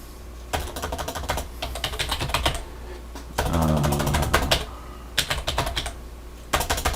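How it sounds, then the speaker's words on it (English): Bursts of computer keyboard typing while entering a blog article in a content manager, rapid clustered keystrokes close to the microphone, broken by short pauses and one stretch of steadier mechanical noise. "typing's not very good tonight"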